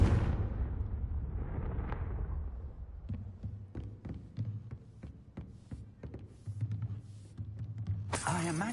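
In Hogwarts Legacy, a Confringo fire spell bursts with a sharp blast that fades into a rumbling tail, followed by scattered clicks and a few short impacts.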